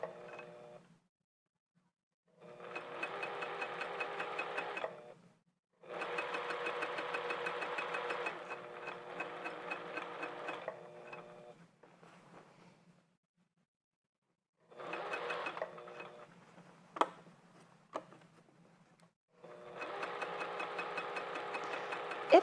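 A sewing machine stitching fabric slowly for a Phoebe top, running in several bursts of steady mechanical whirring separated by quiet pauses, close and fairly soft, with a sharp click in between.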